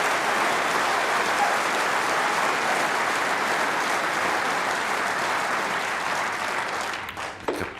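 A capacity crowd at the Crucible Theatre in Sheffield applauds at the 1992 World Snooker Championship final, a dense, sustained wave of clapping that tapers slightly near the end.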